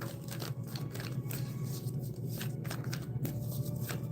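Tarot cards are shuffled by hand at close range, making a soft, busy riffle of papery flicks and slides. The sound is quiet and steady throughout, with no speech.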